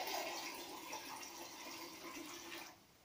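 Ordinary water pours into a sensory bubble tube as a steady, faint running stream that lasts nearly three seconds and then drops off, heard on its own.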